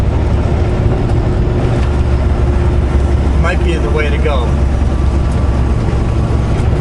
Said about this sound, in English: I really want to keep the sound of the truck in the videos